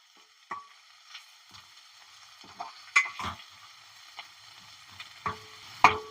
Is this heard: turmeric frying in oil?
yes